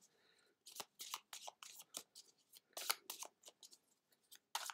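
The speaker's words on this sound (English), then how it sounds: "I'm shuffling these like mad." Tarot cards shuffled briskly up close, a rapid series of crisp riffling and slapping bursts with short pauses between them.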